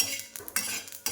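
Roasted sesame seeds are scraped out of a pan with a spoon while preparing a village-style drumstick curry, giving a few short metallic scrapes and clinks, close and fairly quiet, with no talk.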